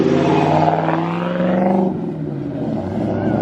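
A 1974 Ford F250 Camper Special sleeper pickup revs hard and pulls away, the engine's loud rising drone dropping off as it drives off.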